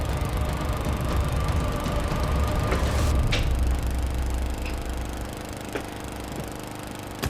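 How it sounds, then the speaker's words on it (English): Lawnmower engine running outdoors, a steady, loud mechanical drone that holds throughout and eases slightly toward the end, with no talking over it. "keep that lawnmower running"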